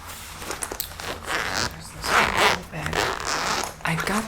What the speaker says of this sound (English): It has many compartments and zippers here.